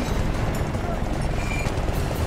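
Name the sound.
helicopter in video game Battlefield: Bad Company 2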